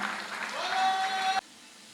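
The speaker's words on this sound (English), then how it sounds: "Let's give him a huge round of applause." Audience applause greeting a new convener at a public assembly, a dense wash of clapping with a sustained tone running through it, cutting off abruptly partway through.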